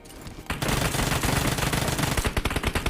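Rapid, continuous Uzi gunfire in a Free Fire mobile shooter game, a dense loud burst lasting nearly three seconds after a brief quiet start, ending in distinct individual shots.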